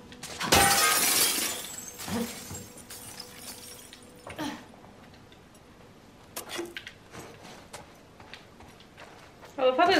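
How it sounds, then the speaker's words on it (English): Glass is broken to unlock a door in The Last of Us Part II: a loud, sharp shatter near the start, followed by scattered tinkling shards and light footsteps and clicks in a quiet room. "Just so I can break some glass and unlock them for Dina."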